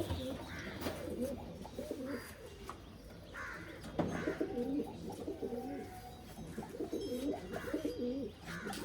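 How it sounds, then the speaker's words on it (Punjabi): Several pigeons coo in soft repeated phrases at a rooftop loft where different pigeon breeds are kept, with faint background noise and no talk. "ਆਹ ਕਬੂਤਰ"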